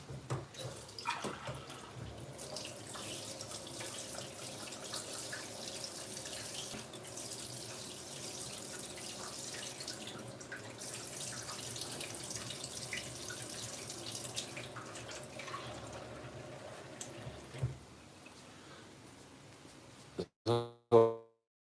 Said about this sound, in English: Gives you boiling hot water.